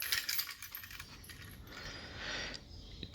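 A set of keys jangling and clinking as they are picked up and handled, a few bright metallic bursts at close range with quieter gaps between.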